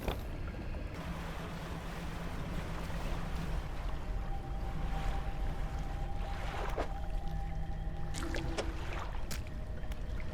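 Water laps and sloshes steadily around a platform in the fishing game Dredge, with soft bubbling and a few faint tonal chimes near the end.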